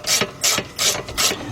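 A hand ratchet clicks as it tightens 12mm bolts on the rear brakes of a 2007 Honda Accord, four short bursts of close, loud ratcheting strokes with brief gaps between.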